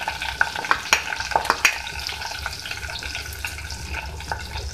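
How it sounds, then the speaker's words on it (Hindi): Cumin seeds and green chilies fry in oil, a steady soft sizzle with a few sharp crackles and pops near the start, close and moderately quiet, with no talk. "यहाँ पे मैंने इसको फ्राई कर लिया जीरा और हरी मिर्चों को"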